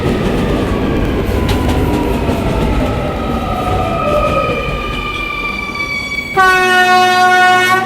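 An R220 subway train on the 11 local line runs steadily with a loud, continuous rumble and rising motor whine, then a sharp multi-tone horn or chime sounds near the end.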